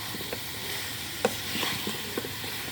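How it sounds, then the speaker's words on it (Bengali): Chicken fried in a pan with ground spices, stirred and scraped: a soft sizzle under irregular spoon scrapes and clicks, with one sharper knock near the middle. "এখন আমি এগুলা সবগুলো দিয়ে নাড়াচাড়া করে কষিয়ে নিই"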